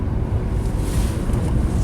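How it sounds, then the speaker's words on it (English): A Nissan Maxima with an overheating problem and long crank times holds high RPM in low gear, giving a steady, loud, dense low rumble with no pauses and no talk. "let's see what happens if we just put it in like second gear, get the RPMs up"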